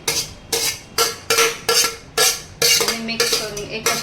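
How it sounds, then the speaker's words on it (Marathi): Vegetables tumble into gravy in a pot and get stirred with a metal spoon, giving a run of about ten evenly spaced, sharp scraping clanks against the vessel, close and fairly loud, with no voice. "मंडळी बघा आता भाजी सगळी आतमध्ये टाकते ग्रेव्हीमध्ये"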